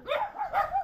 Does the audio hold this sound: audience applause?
no